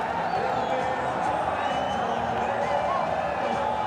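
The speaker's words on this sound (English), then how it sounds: "and the crowd are delirious." Cricket crowd at a Bangladesh versus Pakistan T20 international roaring after a catch, a steady dense wall of cheering and noise throughout with a commentator's voice over it.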